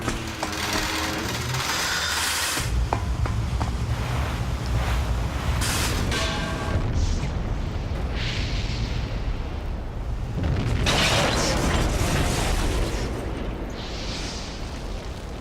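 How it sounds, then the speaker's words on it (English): A Navy warship blowing up in Parasite Eve: a massive, continuous roaring explosion with rumbling debris and crackle, swelling in several loud surges across the whole stretch. "There's one Navy warship blown up."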